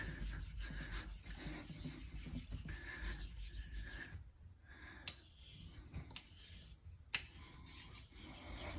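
A Theirs Issard straight razor is honed with slurry on a 1K stone, its blade giving a soft, continuous rubbing and scraping in back-and-forth strokes, faint and close.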